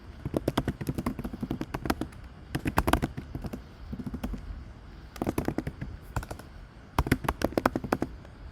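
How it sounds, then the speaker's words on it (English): Typing on a computer keyboard comes in quick bursts of close, crisp key taps separated by short pauses, repeated several times. "I'm going to go in here and I'm going to start typing something"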